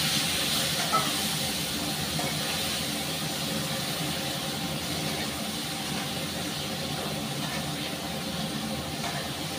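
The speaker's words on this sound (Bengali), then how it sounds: "আমি একটু জল দিয়ে দেবো যাতে মশলাটা পুড়ে না যায়।" Water poured onto hot spice paste in a cooking pan gives a steady, dense hiss of sizzling and steam that holds evenly for the whole stretch, with no talking.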